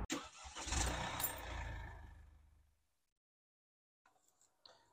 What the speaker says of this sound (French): c'est un bruit basique de diesel